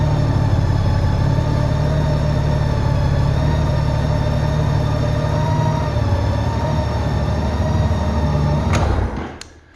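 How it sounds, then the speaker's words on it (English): A 2010 Honda Goldwing motorcycle engine idles with a smooth, steady hum close by, then shuts off with a couple of clicks and fades out at the end. "I love how a Goldwing sounds."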